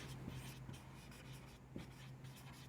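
Writing on a board in a physics lecture, with repeated short scratching strokes and light taps at an irregular pace. The sound is faint and close, set against low room noise, and no one speaks.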